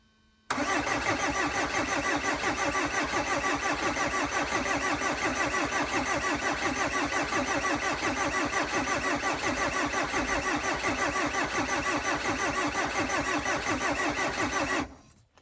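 A Renault Kangoo diesel van engine with no fuel cranks on the starter for about fourteen seconds without firing, a steady, even mechanical churning that cuts off abruptly.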